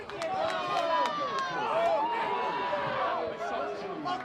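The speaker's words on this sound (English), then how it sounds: "This crowd is fired up." Crowd at Babb Field cheering and chattering after a college baseball home run, a steady roar with scattered shouts from a packed stand, with a commentator's voice over the top.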